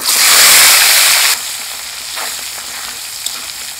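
Onions frying in hot oil for a country chicken and potato gravy: a loud, dense crackling sizzle for just over a second, then a softer, steady hiss with occasional pops.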